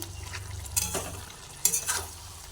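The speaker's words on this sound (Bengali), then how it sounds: "অল্প জল দিয়েছি এখন এটা নাড়াচাড়া করে দিচ্ছি" A vegetarian vegetable dish with a little water stirred in a pan, gentle scraping strokes over a soft continuous sizzle, with a couple of sharper clinks of the utensil.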